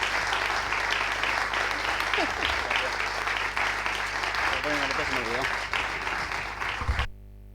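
Applause for the municipal archivist at the presentation of the new La Unión municipal archive, a steady roomful of clapping with a few voices underneath, cutting off abruptly near the end.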